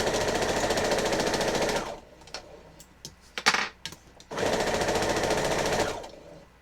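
A sewing machine stitching a quilt runs in two rapid mechanical bursts of about two seconds each, close and loud, with quieter handling clicks and rustles in the pause between them.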